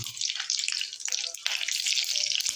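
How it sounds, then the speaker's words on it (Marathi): Steady, crackling sizzle of whole spices frying in hot oil in a pan for a crab dry masala, close up, with a few brief stirring clinks and no talking. "आता हा खडा मसालासुद्धा ह्याच्यात घालून फ्राय करून घेणार आहे"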